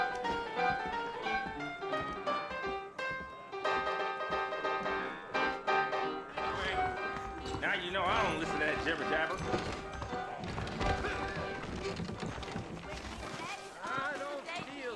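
Horse hooves clip-clop in Red Dead Redemption, a steady trotting beat running beneath the voices of people talking throughout, with music in the background.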